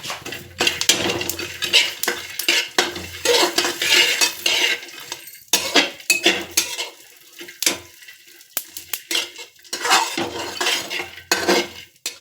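Dry fruits being stirred and dry-roasted in a pan, with a spoon scraping and clinking against the metal in busy irregular bursts and brief pauses, loud and close with no talking.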